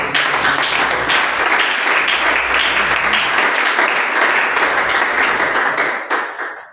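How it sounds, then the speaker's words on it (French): A church congregation applauds loudly and steadily, dense clapping from many hands filling the room throughout before tapering off at the very end. "Acclamons le Seigneur."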